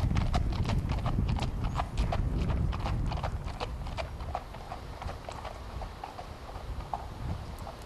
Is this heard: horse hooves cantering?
yes